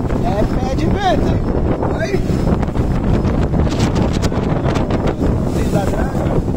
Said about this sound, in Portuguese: É pé de vento